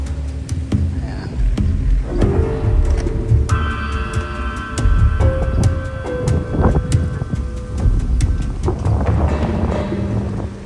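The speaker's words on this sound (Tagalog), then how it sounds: "medyo napalakas na hangin dito" Strong wind buffets the microphone in a low, rumbling roar at a farm campsite with light drizzle, with scattered knocks and tonal hums in the background.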